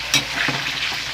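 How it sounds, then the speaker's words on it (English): Ginger and onions fry in a pan for a Thai pork curry, giving a steady close sizzle with brief stirring scrapes and clatter and no talk. "We want it frying, yeah, a good fry."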